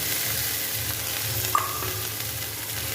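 Onions and mild green chillies fry in a pan with a soft, continuous sizzle, a single sharp clink of a utensil partway through, close by and without speech.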